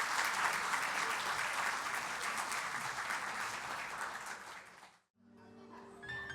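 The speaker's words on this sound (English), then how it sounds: "let's have a round of applause for our speakers." Audience at a women's heart health symposium applauds its speakers, a dense, steady wash of many hands clapping for about five seconds before stopping abruptly into near silence, followed by faint room noise.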